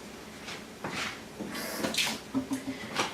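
Hard-boiled eggs rinsed under a running kitchen tap at home, giving a steady close hiss of water with splashes and a few light knocks as the eggs are handled.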